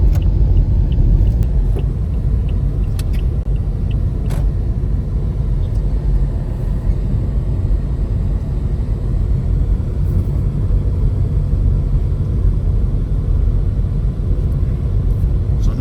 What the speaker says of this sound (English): traffic's pretty heavy right now. It's rush hour.